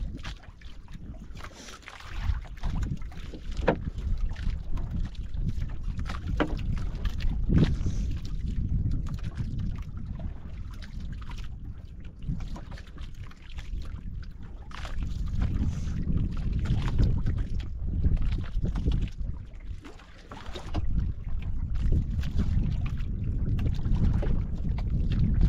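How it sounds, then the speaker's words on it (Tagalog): Wind blowing hard at sea around a small boat on the water, a continuous rumbling roar with buffeting against the microphone that eases briefly near the end. "Hangin na naman siya."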